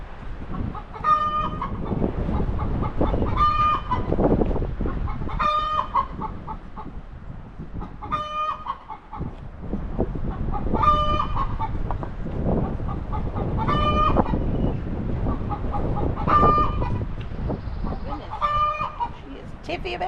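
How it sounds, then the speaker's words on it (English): A backyard chicken clucks and gives repeated short calls at a steady rhythm over a constant outdoor rumble, fairly close, while a person talks nearby. "A little chicken I don't think approves."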